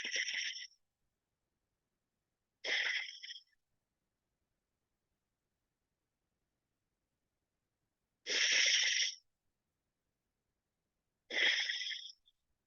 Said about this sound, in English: Let's just take a couple more deep breaths here together.